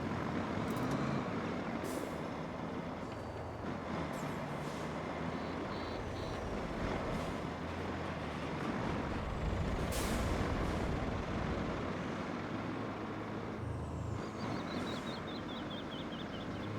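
Heavy truck in the RoadCraft game driving steadily with a continuous rumbling engine, punctuated by sharp hissing air-brake releases near the middle and end, no talk.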